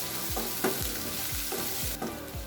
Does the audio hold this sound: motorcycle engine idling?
no